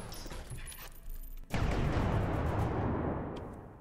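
A warship's main guns firing HEAT rounds in the video game From the Depths, a sudden heavy boom after a quieter stretch, followed by a long, dense rumbling roar that slowly fades.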